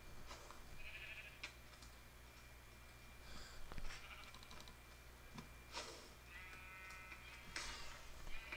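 Blocky sheep in the Minecraft video game bleat several times in short separate calls, faint and quiet against a low background hum with light clicks between them.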